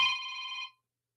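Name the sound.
mobile phone ringing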